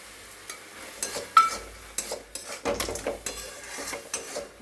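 Ginger paste fries in a pan in a Bengali kitchen as a spatula stirs and scrapes, producing intermittent knocks and clinks of metal on the pan over a light sizzle, close and without talk.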